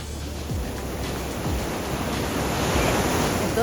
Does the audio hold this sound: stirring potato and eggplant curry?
no